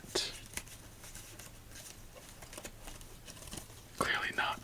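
Playing cards from an All Star deck are shuffled up close in a quiet solitaire setting, soft riffling and crinkly card noises with a denser burst of shuffling near the end, under whispered speech.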